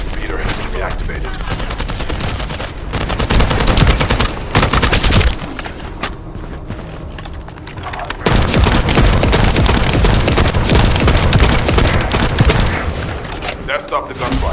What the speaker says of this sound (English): That stopped the gunfire.